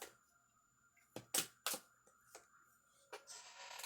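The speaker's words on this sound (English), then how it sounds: "I'm going to shuffle our emotion cards now." A deck of emotion cards is shuffled by hand, giving quiet, close bursts of papery riffling and flicking in irregular clusters against near silence.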